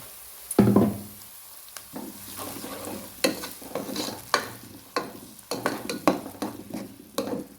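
Tomatoes dropped into a hot pan with fried onions for a macaroni dish, a burst of sizzling followed by repeated scraping stirs and spatula knocks, close and loud with no talk.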